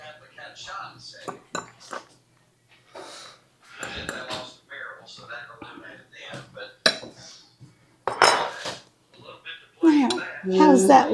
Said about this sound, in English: And then we give it a good mix.